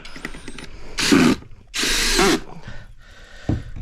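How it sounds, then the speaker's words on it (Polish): Power screwdriver driving a size-four screw into a deck board of a garden-plot platform, two close whirring bursts about a second each with a softer third, between small handling knocks. "I łapię wkrętem."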